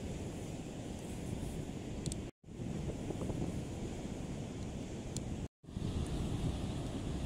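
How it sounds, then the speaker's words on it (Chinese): Ocean surf surging onto Karekare Beach on Auckland's west coast in New Zealand, a continuous loud wash of breaking waves and wind buffeting the microphone, cut by two brief silent gaps. "哇，这个海浪一直在往上涌啊。"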